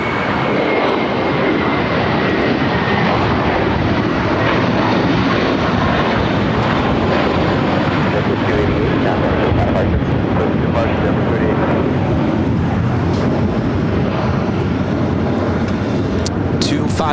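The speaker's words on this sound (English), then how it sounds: "Get Cargo King, 777 freighter, going to be taking off next." A Boeing 777 freighter takes off from runway 25 right at LAX, its engines a loud, continuous broadband roar filling the whole stretch with steady intensity, with faint radio talk beneath.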